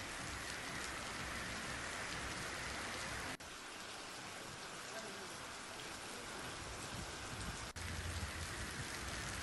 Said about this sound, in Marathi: जालन्याच्या अनेक भागामध्ये मुसळधार पाऊस पडला